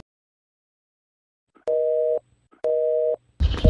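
Two identical steady electronic tones sound in sequence with silent gaps between them, like a phone line failing to connect, followed by a brief burst of noise.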